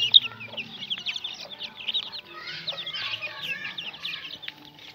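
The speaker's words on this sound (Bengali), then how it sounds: "আমাদের মুরগি বাচ্চাগুলো অনেক সুন্দর করে খাচ্ছে সকালবেলা ওরা খুবই ক্ষুধার্ত" Young chicks clucking and peeping softly while pecking at morning feed on a farm, a steady close chatter of small calls with faint background noise.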